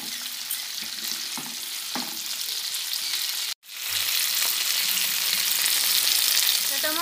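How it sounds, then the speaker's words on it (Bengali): Whole spices and green chillies fry in a pan with a loud, steady close sizzle and occasional stirring, broken by a sudden brief dropout midway before the frying resumes. "সব গোটা মশলাগুলো ভালো করে ভেজে নেব।"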